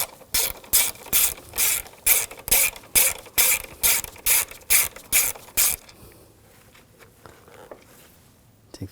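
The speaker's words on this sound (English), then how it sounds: "On the upper washer reservoir, there's a nut right there. Use a 8mm socket." Ratchet wrench with an 8mm socket loosening a nut on the upper washer fluid reservoir of a 2006-2009 Audi S4, about a dozen quick, evenly spaced clicking bursts up close, then quieter fiddling sounds as the nut comes free.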